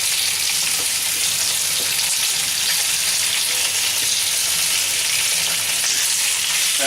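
Chicken frying in very hot, almost smoking oil in a pan, a loud, dense, continuous sizzle that holds steady throughout and stays close with no voices.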